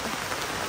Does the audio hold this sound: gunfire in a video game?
no